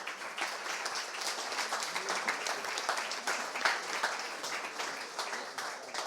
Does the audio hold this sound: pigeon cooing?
no